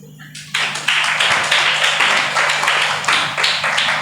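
A church congregation at a Telugu morning service breaks into loud, sustained hand clapping after a brief quiet start, many hands together in a dense, slightly rhythmic wash that carries on to the end.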